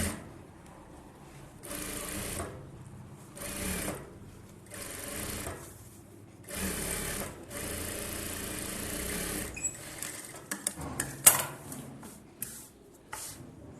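A tailor's sewing machine edge-stitches blouse fabric along a back-neck design, running in several short, steady bursts separated by pauses, followed by softer handling clatter and clicks near the end.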